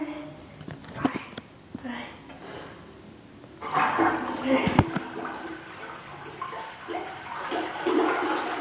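A toilet flushes with a gurgling rush of water that rises midway and then drains, while people talk over it indoors.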